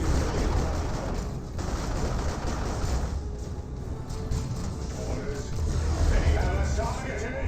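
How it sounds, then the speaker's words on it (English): Rapid bursts of gunfire from Sternguard veterans in the strategy game Dawn of War 2, dense overlapping shots and clattering volleys running continuously, loud against the battle noise. "Does start firing the Sternguard veterans now."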